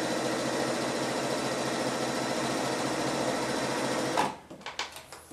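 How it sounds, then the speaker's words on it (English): A sewing machine stitching quilt pieces together runs as a loud, steady mechanical whir with a fast repeating rhythm for about four seconds, then stops abruptly and leaves a few light clicks and knocks close by. "you should be able to just place the sides together and sew straight down"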